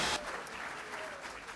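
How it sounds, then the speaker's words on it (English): Applause at a rally for Mayor Ed Koch: a steady wash of clapping from a crowd, loudest at the very start and then continuing evenly at a moderate level. "Let's say a round of applause for Mayor Ed Koch."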